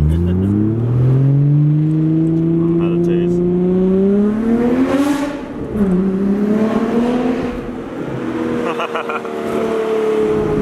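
A naturally aspirated Nissan R32 GT-R engine revs up and down in long rising and falling sweeps, loud and close, dipping briefly before climbing again.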